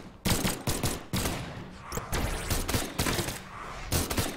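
Gunfire in the fighting game Brawlhalla: rapid bursts of loud, sharp shots rattling off in quick succession, nearly continuous across the stretch with brief gaps between volleys.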